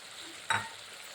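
Chili and turmeric powder hit a hot oiled pan with one brief sizzling burst, stirred over a low background hiss while vegetarian khichuri cooks.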